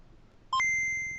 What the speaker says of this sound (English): Computers. Beeps. Boops.